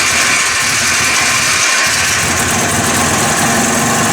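Rebuilt 250 Trail Blazer engine idling steadily and loudly up close, a constant rough mechanical drone with vibration throughout, no talking.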